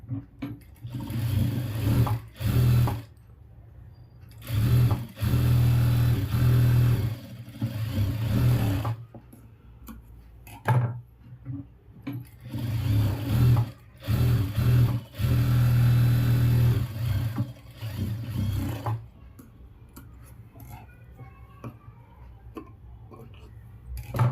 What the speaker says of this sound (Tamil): இப்போ வந்துட்டு ரெண்டு தையல் போட்டுக்கலாம்